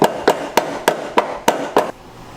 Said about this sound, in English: I hammered it back into place